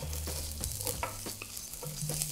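Red onions hit a hot electric grill with a steady close sizzle and light stirring scrapes, over a low constant hum from the appliance.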